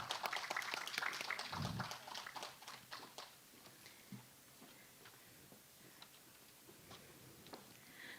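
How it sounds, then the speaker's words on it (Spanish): Applause from an audience at an engineers' association ceremony as a speaker receives a diploma; dense clapping fills the first couple of seconds, then thins out into scattered claps over quiet room tone. "Un fuerte aplauso, por favor."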